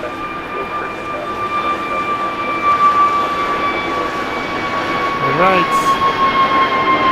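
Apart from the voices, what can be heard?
Delta airliner taking off from LAX runway 6 right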